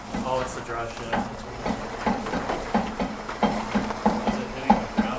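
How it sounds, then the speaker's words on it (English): Rhythmic clunking and knocking from the drive shaft yoke of a Z car as it is moved, repeating roughly every half second, fairly close and moderately loud, with faint voices behind it. "What that noise is. Oh, it's the drive shaft."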